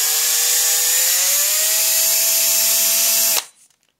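A tube spun by a power tool while gripped in sandpaper to polish off debris, a steady high whirring hum that holds evenly for about three seconds and then cuts off abruptly.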